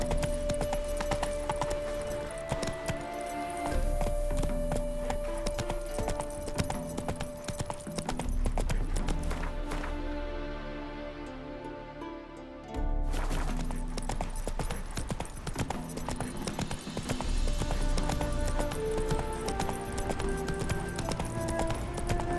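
Rhythmic hoofbeats of a galloping horse in The Witcher 3: Wild Hunt, steady and close, over a musical background, with a short break midway before the pounding resumes.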